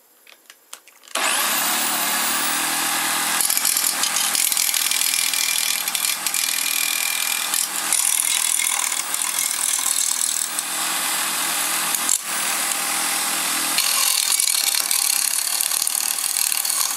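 A spinning cutting disc rips through a plastic keyway, starting abruptly after a few faint knocks into a loud, harsh, sustained grinding whine with small dips, running close for about fifteen seconds before easing.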